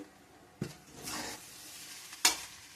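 Tomato egg rice is stirred in a frying pan over a quiet sizzle, with a sharp scrape at the start, a longer sweeping stir in the middle and a bright clink of the spoon on the pan near the end.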